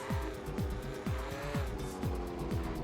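Car thrown wildly around in Smuggler's Run, with an engine revving up and down in quick repeated cycles, close and steady, mixed with tire noise.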